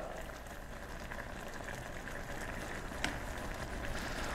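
Pork kimchi stew simmers in a pot, giving a steady, even bubbling and gentle popping close by throughout, with no voices.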